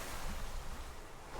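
Dense, continuous rushing bubbles in the video game Minecraft, a steady broadband fizz and churn like water, loud and close with no voices.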